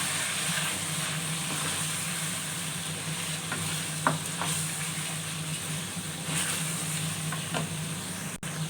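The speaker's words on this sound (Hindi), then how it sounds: "इसमें चम्मच घुमाते हैं" A spoon stirs red chili, cumin seed and cinnamon frying in a pan, a steady close sizzle with occasional faint scrapes and clinks of metal.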